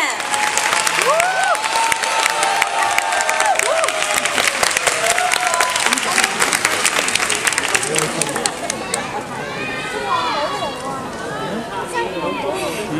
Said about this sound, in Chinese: 掌声再次送给他们